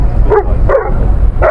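A few short, high-pitched yips from five-month-old puppies at a dog sale beside the Mashtaga livestock market, three quick barks spaced apart, close and fairly loud against a low background rumble.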